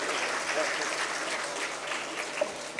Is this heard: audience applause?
yes